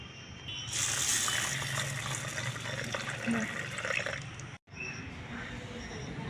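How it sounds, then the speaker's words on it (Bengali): Water gushing steadily into a bowl to soak red lentils (masoor dal) in a home kitchen, a close, continuous pour that breaks off for a moment near the end and then resumes. "তা চলো মুসুর ডালটাকে ভিজিয়ে দিই।"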